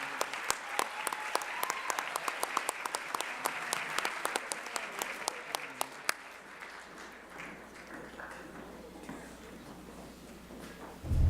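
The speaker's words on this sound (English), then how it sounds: "Please give them all a round of applause as they exit the stage." Crowd applause at a regional educators' awards and scholarship ceremony as honorees leave the stage: dense, crisp clapping fills the first six seconds, then fades into scattered claps and low room murmur.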